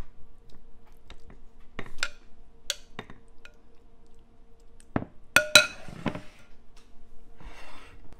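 Ceramic plates and a serving bowl clink while tomato bruschetta is plated, giving a handful of sharp, separate knocks and chimes spread across a quiet background with no talking.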